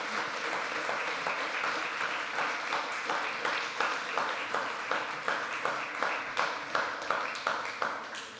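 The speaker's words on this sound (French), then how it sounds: "Je pense qu'on peut vous applaudir à nouveau une deuxième fois" Conference audience applauds panel speakers, a steady, moderately loud wash of many hands that settles into a slightly rhythmic clapping toward the end.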